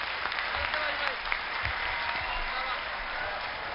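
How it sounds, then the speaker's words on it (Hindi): Audience applause for comedian Raju Shrivastav at a live event, a steady wash of many hands clapping that runs through the whole stretch at moderate loudness. "एक बार जोरदार तालियों से राजू श्रीवास्तव जी को बधाई दें।"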